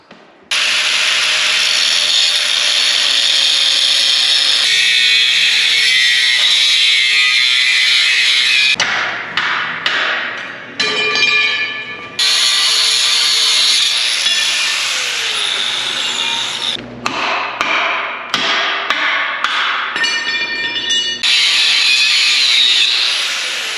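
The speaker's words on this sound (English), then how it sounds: "start cutting some of the things off that we don't need, like these body mounts" Power tool cutting body mounts off a 4x4 Jeep frame, a loud continuous grinding, sawing whine with several brief pauses and restarts, close and alone without voices.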